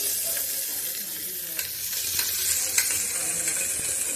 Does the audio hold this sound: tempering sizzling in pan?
yes